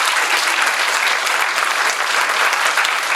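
Audience at a Christmas concert of music and poetry applauds the performers, dense, continuous clapping from a full crowd, steady and fairly loud for the whole short stretch.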